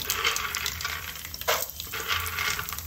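Peanuts frying in hot oil with tempering spices for bhelpuri, a steady close sizzle with crackles and a few sharp stirring clinks, no talking.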